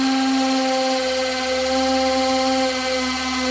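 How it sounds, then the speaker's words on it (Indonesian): A Makita DF331D cordless drill with a replaced gearbox runs steadily in hammer mode, a whining motor with a rapid buzzing rattle, close and continuous without talk. "kekuatan dari impact hammernya ini sangat terasa, hentakannya sangat keras"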